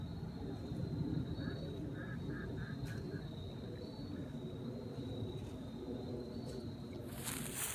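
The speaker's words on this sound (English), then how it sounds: "All the ducks coming." Several ducks quack in a short rhythmic series at middle distance by the water during a fishing outing, under a steady background of insect chirring and outdoor hum.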